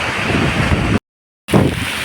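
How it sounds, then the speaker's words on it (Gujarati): Strong wind and heavy rain batter the outdoors near a flooded highway in Jamnagar, heard as loud, roaring buffeting on the microphone that cuts out abruptly for about half a second before resuming. "ફૂલ પવન આવે છે એકદમ વરસાદ વધી ગયો છે અત્યારે"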